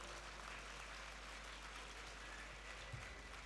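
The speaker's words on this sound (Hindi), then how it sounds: "आप सबकी तरफ से एक तालियों से उनका अभिनंदन करें" Applause from an audience at a camp gathering, steady broadband clapping throughout, fairly faint and distant, with no talk over it.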